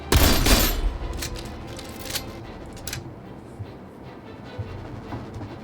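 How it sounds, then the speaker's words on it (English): A shotgun blast fires in the PC video game Aether & Iron, one loud sharp report at the start followed by a few quieter bursts and clatter. Faint game background sound runs beneath. "Let's see if we can do a shotgun here."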